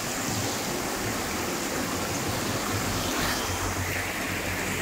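Water flows steadily through a small river basin in the shade, a loud, continuous rushing wash close by with no pauses and no voices.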